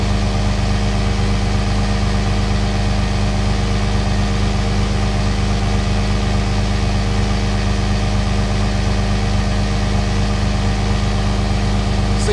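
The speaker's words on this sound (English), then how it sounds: "See how that compressor's doing again." A Harbor Freight 12-volt portable 150 PSI air compressor, model 69285, runs as it builds pressure toward 60 pounds. It makes a steady, loud, close mechanical drone with an even pulsing hum and no break or speech.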